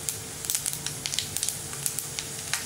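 Ingredients for a Tamil beans curry fry in a pan with a steady, close sizzle and scattered sharp crackles and pops throughout, no talking.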